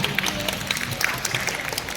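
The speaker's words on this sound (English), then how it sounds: "please a round of applause for Ms." Audience at a school founder's day panel discussion on sustainability and sport applauds a guest, producing a steady, moderately close patter of many clapping hands throughout.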